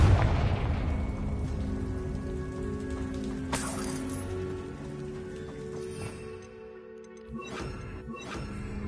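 Fiery Confringo spell blasts in the Hogwarts Legacy game, a burst of explosive booms at the start and again midway, with crackling debris and a steady rain-like patter underneath, no talking.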